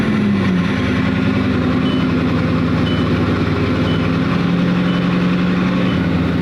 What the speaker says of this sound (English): With the push of a button right here on the steering wheel, we can start that W16 quad turbo